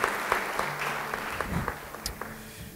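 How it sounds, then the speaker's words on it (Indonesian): A church congregation applauds in a sermon, a moderate scattering of claps with some sharper individual hits that thins out toward the end. "Beri tepuk tangan bagi dia."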